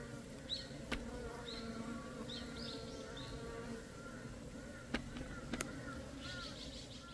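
Honeybees buzz around a hive while a beekeeper splits a colony in July, the insect drone steady and close throughout, with a few sharp knocks and faint bird chirps in the background.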